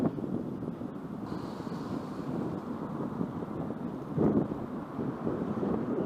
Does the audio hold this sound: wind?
yes